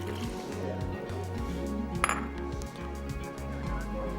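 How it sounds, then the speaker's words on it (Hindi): Water poured into a bowl of cornflour for a gol gappa platter in a kitchen, a steady liquid pour with faint glassy clinks, heard over background music with no talk. "ये गया पानी"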